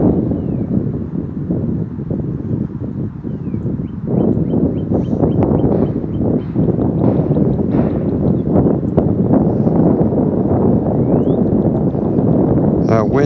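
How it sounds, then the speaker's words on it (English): Strong wind buffets the microphone outdoors during a first FPV drone flight, a steady roaring rush with gusty swells throughout, while a person talks over it and faint whining tones from the drone come and go. "Oh, the wind is really strong now."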